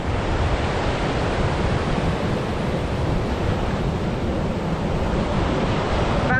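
Continuous roar of sea surf breaking on rocks off Koh Lanta, thick and unbroken, like waves churning close by without pause.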